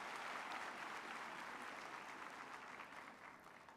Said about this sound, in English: can we give them another applause